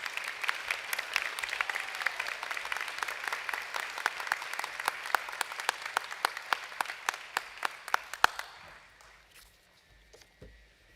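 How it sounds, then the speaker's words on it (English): Applause from a seated audience at a medical school white coat ceremony, a dense patter of clapping with sharper individual claps standing out, thinning out and stopping after about eight seconds. "Give another round of applause to the Sackett House."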